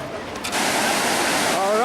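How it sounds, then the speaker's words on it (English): Whitewater rapids rushing on the Ocoee River below the Ocoee #2 Dam, a broad continuous roar that swells after a moment and then holds steady and loud. "you hear that sound? That is the sound of whitewater."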